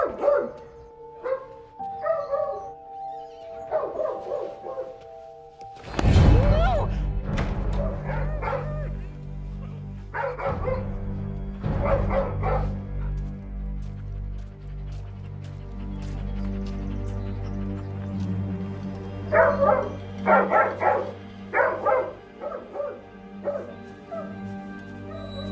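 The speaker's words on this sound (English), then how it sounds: "He's barking like crazy." A dog barks repeatedly in sharp bursts, with yips and whimpers between them. The barking is loud and close, comes in clusters with pauses, and sounds over a steady background hum. No one speaks.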